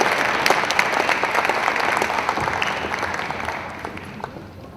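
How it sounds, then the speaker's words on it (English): A crowd at a university sports legacy celebration applauds steadily, a dense wash of clapping that holds for a few seconds and then slowly fades. "Round of applause for Thomas, please, and the hard work there."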